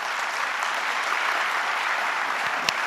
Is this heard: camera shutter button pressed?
no